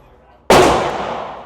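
A single sharp Glock 43 pistol shot cracks out loud and close after a quiet moment, then trails off in a long echoing decay across an outdoor shooting range.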